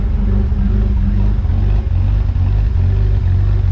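A Holden VX-VY naturally aspirated V6 with a lumpy idle tune runs loud and close, its low engine note holding steady with a rough, uneven pulse and no talk.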